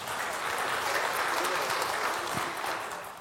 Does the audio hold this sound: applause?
yes